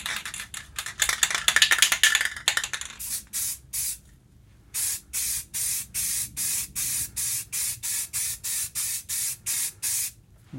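Spray painting a Necromunda Zone Mortalis floor tile for Warhammer: a rapid rattling burst first, then a pause, followed by a long run of short hissing aerosol spurts in an even rhythm, close and loud, with no talking.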